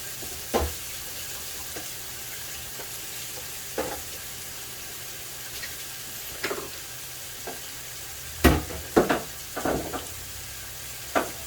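Shrimp frying in a pan sizzle steadily, with a few louder crackles and pops near the end, close and fairly quiet.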